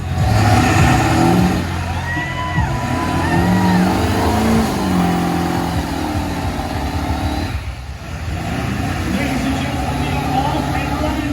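Big trucks rev their engines hard at an outdoor truck tug pull, a loud roaring drone that rises and falls under crowd noise and a voice.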